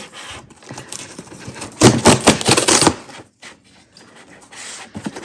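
A Sephora cosmetics parcel is opened, with close scraping and rustling of packaging that peaks in a dense burst midway, then quieter handling noises, and no talking.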